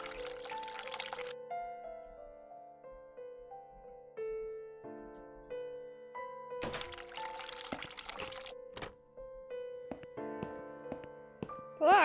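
Water pours from a sink tap in The Cat Lady video game, two bursts of splashing flow rising over steady game music with tonal background notes, each lasting about a second or two.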